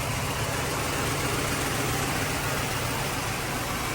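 A 1985 Mercedes 500SEC V8 with a misfire idles in a steady, noisy, droning hum, with no talk over it.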